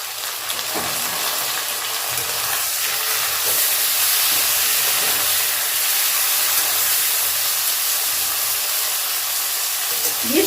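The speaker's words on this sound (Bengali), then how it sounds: "এই সময় টমেটোগুলো দিয়ে দিচ্ছি।" Tomatoes dropped into a pan of golden fried paneer give a steady, loud sizzle and hiss that holds evenly throughout, close by, with no one talking over it.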